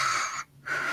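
A sleeping character snores in a Minecraft roleplay: a single loud wheezing snore, a brief silent pause, then the raspy wheeze starting again, close and alone.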